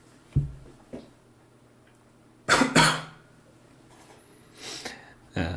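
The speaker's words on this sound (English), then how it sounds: "Sorry for that small cough if you heard it." Two short, close coughs in quick succession stand out against a quiet background, with a few fainter clicks and rustles before and after.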